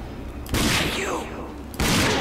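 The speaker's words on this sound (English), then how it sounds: "I shot him right in the head." Gunfire in the shooter video game Rage, two loud blasts about a second apart, each followed by a trailing rumble, with a voice talking over them.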